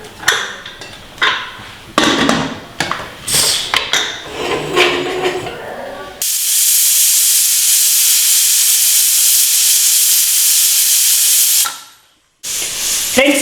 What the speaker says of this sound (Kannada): 3 ವಿಷಲ್ ಕೂಗಿಸ್ಕೊಳ್ಳೋಣ.